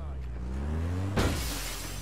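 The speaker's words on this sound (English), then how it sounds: "I've only smashed two windows so far" A car window shatters in APB Reloaded, a single sharp crash of breaking glass cutting over a steady engine drone and short musical tones.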